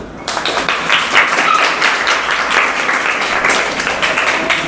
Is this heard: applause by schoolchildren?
yes